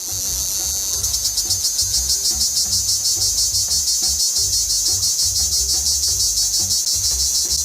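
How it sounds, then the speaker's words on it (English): Dense chorus of cicadas shrilling on safari in Hwange National Park, Zimbabwe, a loud continuous high buzz that pulses rapidly and steadily throughout, with no voices. "This is a cicada. They are a common sound when on a safari."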